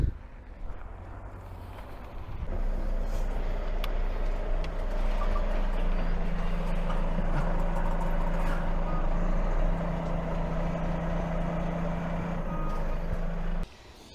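A heavy truck idling then revving and creeping forward onto snow chains on a road in Scandinavia, a deep steady engine drone with a rising tone and faint metallic clinks, ending in a sudden drop.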